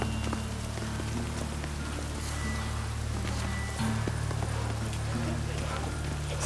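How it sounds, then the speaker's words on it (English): Steady rain in The Witcher 3, a dense hiss and patter that stays constant throughout, with low game ambience and brief voices over it. "Lots of fuss over lots of rain."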